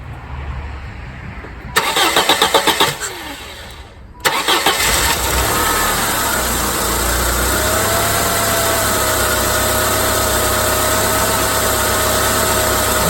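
A Saturn L300 engine cranks in rapid pulses, pauses, then cranks again and fires. It settles into a loud, steady idle with a faint whine running over the rumble.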